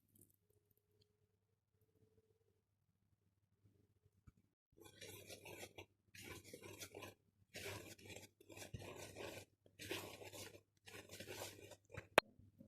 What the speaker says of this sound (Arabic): كده خلاص قلبت المكونات زي ما انتم شايفين كده كلها مع بعضها